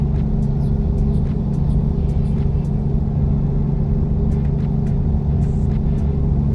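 Steady heavy truck engine drone in the driving game American Truck Simulator, a constant low rumble at cruising speed with faint clicking sounds above it and no talking.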